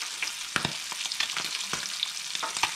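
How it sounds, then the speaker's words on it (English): Sea bass skin sizzles in a frying pan, a steady crackling hiss with scattered pops and spits, close and continuous with no talking. "Just leave it sizzling away."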